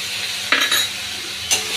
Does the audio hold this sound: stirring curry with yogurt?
yes